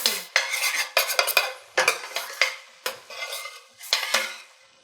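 Mushrooms seasoned with salt and pepper cooking in a pan, heard as a series of close, loud scraping stirs and utensil knocks against the pan in uneven bursts over a faint sizzle.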